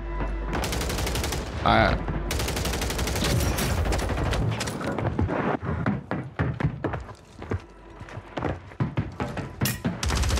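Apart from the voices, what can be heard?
gunfire in the video game Call of Duty Warzone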